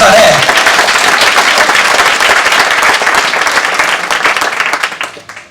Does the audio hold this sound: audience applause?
yes